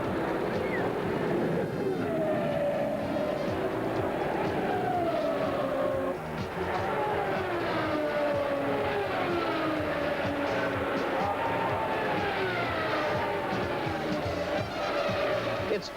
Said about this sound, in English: Foyt moves away from the field, but Mears and John Cox keep him in sight.